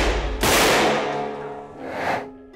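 A gun is fired into a 1 kg block of layered silk in a ballistics test: a sharp loud crack followed by a decaying rumble, then a second, softer burst, with no speech.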